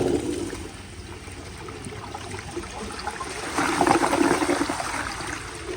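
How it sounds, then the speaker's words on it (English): A 1992 ADA URC Apollo toilet flushes with the water pressure turned down, a steady close trickle and rush that swells partway through into a stronger gurgling flow. "I'm just gonna turn down the pressure quite a bit and then flush it and show y'all how it flushes"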